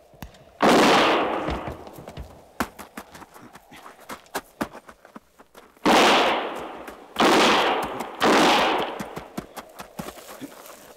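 Several guns fire in a 1958 frontier radio drama, with loud separate volleys of shots and echoing bursts spread through the scene, broken by shorter sharp cracks and no talk over them.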